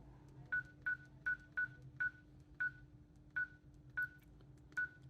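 Keypad buttons on a cordless phone handset being pressed, about ten short, bright electronic beeps at uneven intervals over a faint steady hum, close and quiet.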